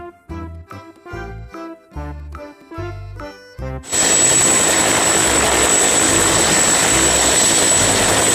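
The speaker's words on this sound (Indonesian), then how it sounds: "Helikopter." A helicopter's loud, steady rotor and engine roar with a high whine comes in abruptly after a few seconds of upbeat music and continues unbroken to the end.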